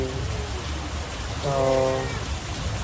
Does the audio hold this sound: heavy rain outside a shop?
yes